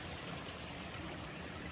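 Cool water of a stream at the foot of a forested ghat trail near Bhimashankar, flowing steadily as a broad, even wash with no breaks and no voices.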